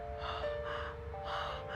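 A voice imitates heavy, raspy breathing heard over a house phone line, several drawn-out gasping breaths in a steady rhythm, close and fairly loud with a faint line hum beneath.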